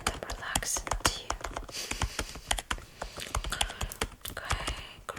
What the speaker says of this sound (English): many people say that these typing sounds are very relaxed for them